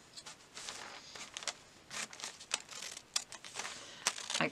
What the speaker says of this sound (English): I cut at this point just to cut through those threads